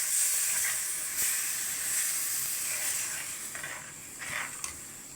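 A little water poured into a hot pan of oil with Kashmiri chilli powder, coriander powder and black pepper powder for a tuna and drumstick curry, giving a sustained loud hiss and steaming sizzle that slowly fades with small bursts.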